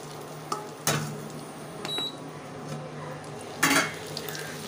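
Chopped onions and tomatoes cook in a pan with fennel seeds for a meal-maker kola urundai kuzhambu, with a soft sizzle under scattered utensil scrapes and a few sharp clinks against the pan.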